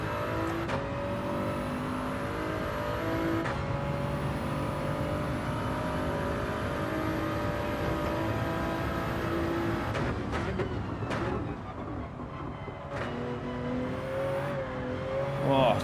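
Race car engine in Gran Turismo 7 holding a steady high drone through a lap on hard tyres, with shifting pitch as it accelerates and brakes, loud and continuous with no talk.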